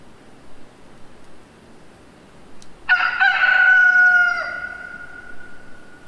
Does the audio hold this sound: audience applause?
no